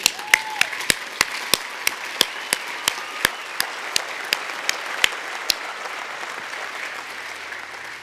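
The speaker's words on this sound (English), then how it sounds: "One last round of applause." Crowd applause at a college commencement ceremony, a broad wash of clapping with loud, regular claps from a nearby person standing out in a steady beat, fading slightly toward the end.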